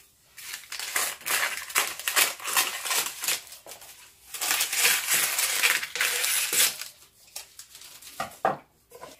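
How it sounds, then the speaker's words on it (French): Overhanging baking paper around a quiche tart being cut with scissors in quick, crisp snips and crinkly rustles, close up and fairly loud, in irregular bursts. "Ensuite, on coupe le papier qui dépasse."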